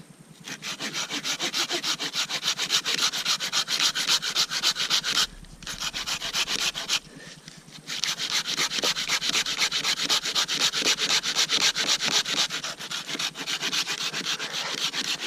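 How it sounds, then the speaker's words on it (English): A collapsible camp saw rasps steadily back and forth through a thick, dead, dry log outdoors, loud and close with rapid even strokes, pausing briefly twice before cutting on. "it cuts through even fairly thick logs like this dead one here, just like butter"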